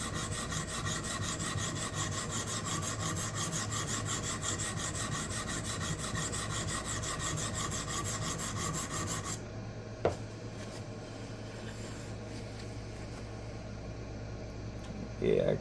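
A knife blade, an Eafengrow EF11, is rubbed back and forth on a budget diamond sharpening plate in a continuous close rasping scrape, then it stops, followed by a sharp click and quieter room noise.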